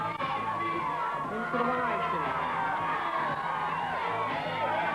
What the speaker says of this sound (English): The crowd are absolutely loving it.